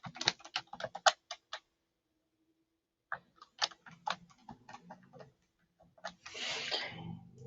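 Keys clatter on a computer keyboard in quick bursts of soft clicks, close and quiet, with a pause midway before a second run of typing and a brief rustle at the end.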